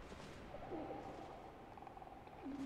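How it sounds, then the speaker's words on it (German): Dove-like creatures in Dark Souls II give soft, gliding cooing calls, several faint hoots drifting over a low ambient game backdrop. "Die klingen ein bisschen wie Tauben."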